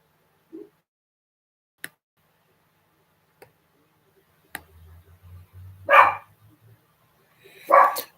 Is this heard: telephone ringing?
no